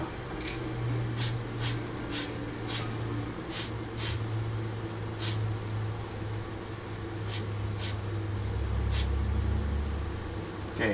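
An airbrush or spray can applies a semi-gloss coat to a 1/32 scale Tamiya F-51D Mustang model, with short bursts of spray in irregular succession over a steady low hiss, close and moderately loud, with no talk.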